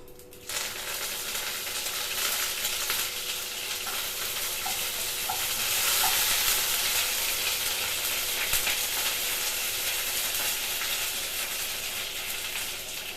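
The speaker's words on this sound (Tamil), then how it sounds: "கடுகு பொரிஞ்சோடனே கருவேப்பிலை போட்டுக்கலாம்." Mustard seeds and curry leaves sizzle in hot oil while an egg and drumstick-leaf poriyal is being cooked, giving a steady, close frying crackle that holds throughout with no talking.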